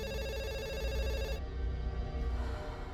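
A telephone rings with a bright, repeating electronic tone that cuts off partway through, leaving a quieter background.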